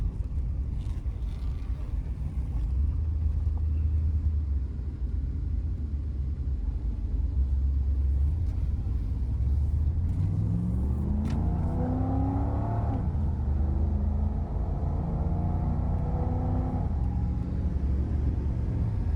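A 1987 Chevrolet IROC-Z Camaro, an original low-mileage muscle car on old tires, drives at speed with a steady low engine rumble and road noise, the pitch rising as it accelerates partway through before settling again.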